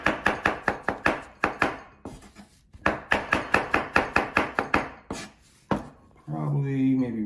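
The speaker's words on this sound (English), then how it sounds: "So we get our mushrooms. All right, we want to slice those up." A knife slices mushrooms on a board in quick runs of sharp, even taps, roughly a dozen to a burst with short pauses between, close and crisp; a voice speaks briefly at the end.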